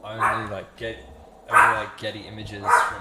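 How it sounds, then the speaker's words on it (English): A pet dog barks several times in a room at home, loud, close bow-wows in short bursts with pauses between them, while someone talks over and between the barks. "sorry, that's my dog."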